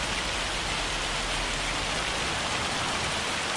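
Steady heavy rain in Farming Simulator 25 on the Elm Creek map, a continuous dense hiss of downpour with no talk over it, loud and unbroken from start to finish.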